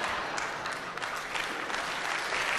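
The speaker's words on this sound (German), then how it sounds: "Applaus" Steady, dense applause from a large carnival-show audience at Mainz, continuous clapping filling the hall without pause or voices rising above it.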